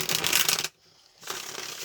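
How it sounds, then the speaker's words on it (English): A deck of tarot cards is shuffled up close in two quick riffling bursts, a crisp, fluttering rush broken by a short pause, with no voices. "let's go ahead and get a couple of more shuffles"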